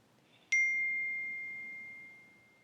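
A single clear phone text-message notification ding rings out once after a faint background hush, its bright tone sustaining and slowly fading over a couple of seconds.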